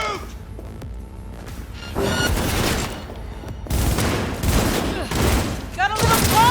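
Gunfire in the video game Cyberpunk 2077, with dense rapid bursts of automatic shots and impacts layered over game sound and music, loud and continuous, with voices calling out amid the firefight.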